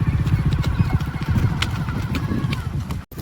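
Rapid rhythmic hoofbeats of a cart horse clip-clop close by at a brisk pace, with a brief neigh-like call and background voices, ending in a sudden dropout.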